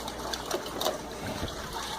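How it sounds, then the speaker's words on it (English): Water pours steadily into an aquarium filter box, making a continuous close gushing and trickling wash with small splashy bursts. "So the water is about to fill up"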